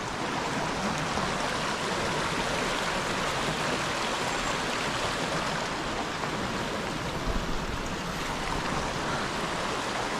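Cold mountain stream water rushing continuously through jungle near Tlai Falls in Cherrapunji, Meghalaya; a steady, full, close roar of flowing water with no voices.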